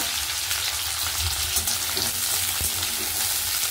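Small cut cauliflower florets frying in oil in a pan, a continuous close hiss and crackle of sizzling at steady volume for several seconds, with a faint stir or clink partway through and no voices.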